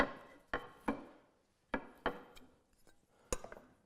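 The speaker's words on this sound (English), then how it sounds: "Don't you love that click sound when it" Several sharp wooden clicks and taps at irregular intervals as a wooden door joint clicks into place, close and crisp, with quiet pauses between them.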